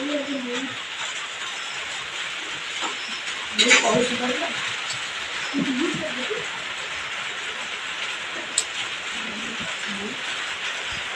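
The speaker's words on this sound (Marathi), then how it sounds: "सकाळ सकाळी पाऊस सुरू आहे" Steady morning rain hisses evenly in the background throughout, with someone talking over it in bursts and a sharp knock near the middle.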